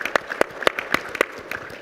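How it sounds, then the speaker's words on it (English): Audience applause at a State of the Economy event, a modest scattering of distinct claps in an uneven rhythm, fairly sparse and moderately quiet. "Let's give them a round of applause as well."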